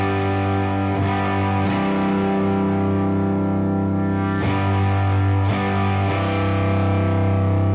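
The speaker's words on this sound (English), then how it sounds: "I've got a really heavily distorted patch on my Fractal X8, but I'm rolled back a little bit to get it clean" Electric guitar played through a heavily distorted Fractal Axe-Fx patch with the volume rolled back for a cleaner tone, sustained chords with several picked attacks and effect-laden ringing, loud and steady throughout.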